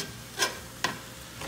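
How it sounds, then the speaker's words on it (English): Sofrito cooks in a pan as a utensil gives three quick scraping stirs through it. Each stir is short and crisp, over a faint, low sizzle in the gaps. "Give that a good stir."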